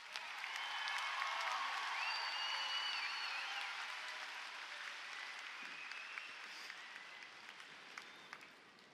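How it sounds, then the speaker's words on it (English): A commencement audience applauds the class of 2018 valedictorian, a sustained wash of clapping that starts loud and full, then gradually thins and fades over about nine seconds, with scattered individual claps near the end. "please join me in applauding this year's valedictorian, Manuel Morales."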